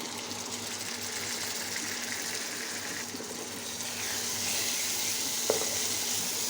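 Beef brain frying with ground spices in a pan, a steady close sizzle with faint stirring scrapes, growing slightly louder partway through, with one brief sharp click near the end.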